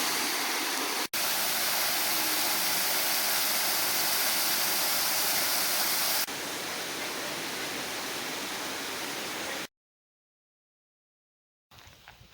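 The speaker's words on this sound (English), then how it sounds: "Other set of falls that goes into a pool that flows down to the other set of falls." A waterfall pours into a pool, a loud steady broadband rush close by that cuts out abruptly for a couple of seconds near the end before resuming.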